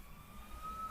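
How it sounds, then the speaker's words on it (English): A faint, distant ambulance siren wails in a steady tone outside over low background rumble, with no voices. "you can hear the ambulances driving outside"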